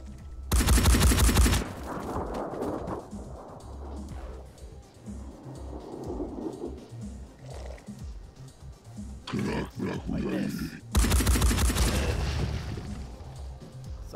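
Gunfire in the tactical video game Phoenix Point, in an early alpha build. Two loud bursts of rapid automatic fire come near the start and again near the end, with someone talking at length in the quieter middle.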